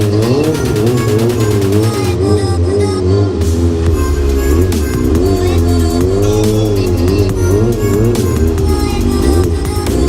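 Kawasaki ZX6R sport bike revving hard as its rear wheel spins, a loud, continuous engine wail rising and falling over about ten seconds with tire noise mixed in.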